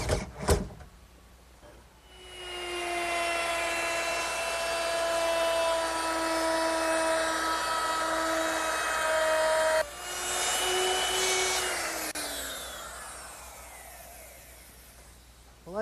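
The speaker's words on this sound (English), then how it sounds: "I'm ready to fasten it down with some regular screws" Power driver sinking regular screws to fasten the wooden top of a chest of drawers, a long steady whine running from about two seconds to ten, then a shorter second run that winds down near the end.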